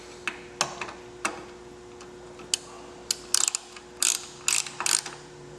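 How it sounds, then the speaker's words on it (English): A hand ratchet tightens the mounting bolts on a Lloyds air filter for a Cross Country motorcycle, giving a series of sharp clicking strokes close up. The strokes start spaced out, then come in quick bursts toward the end. "Then take the ratchet."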